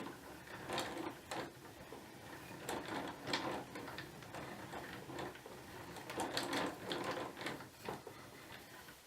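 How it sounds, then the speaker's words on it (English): A yarn ball winder turns yarn into a cake with a faint, noisy mechanical whir, punctuated by irregular clicks and ticks throughout, with no voices heard. "My ball winder was a little noisy."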